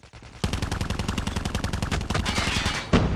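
Rapid automatic gunfire in COD Mobile, a dense, loud burst of repeated shots running almost three seconds, with a sharper shot near the end and no voices.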